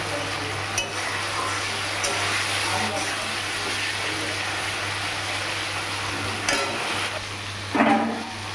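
Masala sautéing in oil for a banana-flower mocha curry, a steady low sizzle with occasional spoon stirs and scrapes against the pan, fairly quiet and continuous, with a faint hum underneath.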